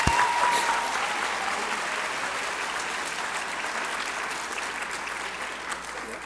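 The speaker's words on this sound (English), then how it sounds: "How about a round of applause for all of our volunteer hours?" Sustained applause from a school audience at a 2008 high school yearbook ceremony, steady and dense from start to finish with no voices over it.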